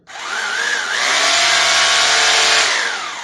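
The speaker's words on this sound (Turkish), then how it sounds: "Şöyle bir hilti var elimde." A Hilti rotary hammer drill spins up with a rising whine, then runs loud and steady for a few seconds before winding down, close by.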